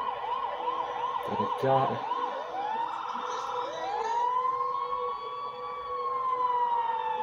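A police car siren in the video game GTA 5 wails steadily, switching to a fast yelp pattern partway through. The siren carries on through the whole stretch, and a voice briefly speaks over it.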